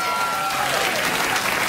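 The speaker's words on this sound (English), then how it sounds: "Genuine warm applause for a beloved American entertainer." Steady applause from a late-night talk show studio audience, clapping densely and warmly for the full stretch, with a faint tone lingering early on.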